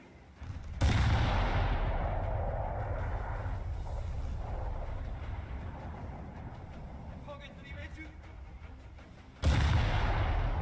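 Heavy naval guns boom twice in War Thunder, each blast loud and sudden with a long rumbling decay, while the battleship Fuso's engine and sea noise roll on steadily underneath.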